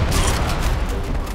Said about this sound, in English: That's what you get for shooting the wall.